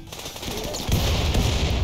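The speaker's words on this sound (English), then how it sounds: "Oh, wowee, that is a big explosion." Gunfire and a big explosion in the video game RimWorld, a rattle of rapid shots followed by a loud, heavy blast that rumbles on to the end.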